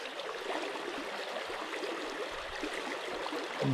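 Swift water rushing through river rapids at a fishing spot, a steady broadband wash that stays constant and fairly loud from start to finish, with no voices.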